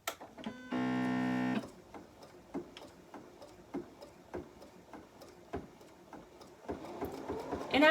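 Embroidery machine fitted with a 44C foot starting up: a short buzzing electronic tone, then slow, regular ticking stitches that grow a little busier toward the end.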